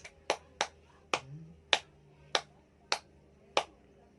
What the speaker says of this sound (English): give group 1 5 claps